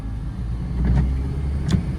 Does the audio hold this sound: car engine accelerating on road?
yes